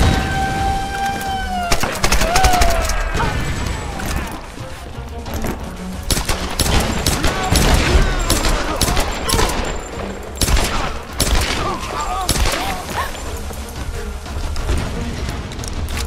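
Heavy gunfire in the Tomb Raider shanty town level, sustained rapid bursts and loud cracks packed throughout, mixed with booms and a chaotic battle ambience, fairly loud and close.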